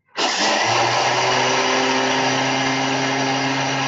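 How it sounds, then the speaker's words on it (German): An electric grain mill grinds a buckwheat and millet mix into flour, starting abruptly and then holding a loud, steady high-pitched whir with a constant motor hum, close by and without talk. "ich werde jetzt 300 Gramm Buchweizen-Hirsemischung kurz mahlen."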